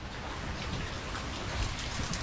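Steady rain patters in a dense wash of noise, with a few louder drops or splashes near the end.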